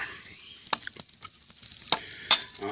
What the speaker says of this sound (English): let's stir it a little bit more